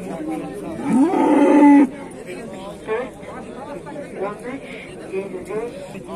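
A single loud cow moo rings out up close at the Toktogul livestock market, followed by a busy murmur of people talking and distant animal sounds.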